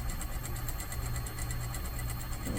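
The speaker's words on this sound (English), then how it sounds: "I'm just sewing a really big seam allowance at 3/4 inch" A sewing machine runs steadily at a close distance, humming and ticking as it stitches a long seam with a wide 3/4-inch allowance for an invisible zipper, and no one talks over it.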